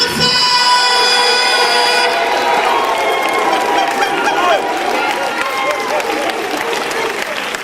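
Crowd applause welcoming a speaker onto a stage at a talk, a loud sustained wash of clapping and cheering with a sustained tone at the start and a voice over it.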